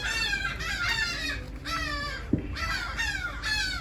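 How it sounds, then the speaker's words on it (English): Seagulls cry overhead at a Louisiana spot where speckled trout are being filleted, sending out repeated harsh, wavering calls in several bursts. A soft thud lands between the calls. "God dang, seagulls."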